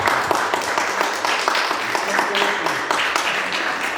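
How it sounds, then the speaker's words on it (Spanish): Audience applause at a talk by a teacher, painter and certified guide, steady clapping throughout at moderate level with a murmur of voices underneath. "vamos a darle un aplauso muy fuerte a Cooper, que está con nosotros."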